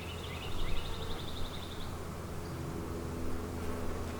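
Honey bees buzz around an open backyard hive during an inspection, a dense steady drone with occasional nearer individual whines passing close, and no talking.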